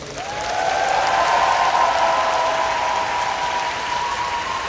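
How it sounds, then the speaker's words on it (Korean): Audience applause at a Korean Navy patriotic concert, welcoming the conductor of the combined Korea-US military band and Eighth Army band. Dense, steady clapping swells within the first second and holds loud and even, with a faint sustained tone running underneath. "리차드 F 체프먼 주디를 큰 박수로 맞이하여 주십시오"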